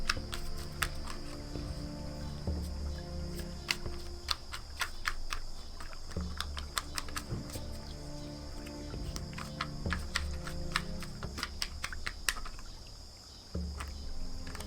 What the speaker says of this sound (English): I shuffle right by the mic.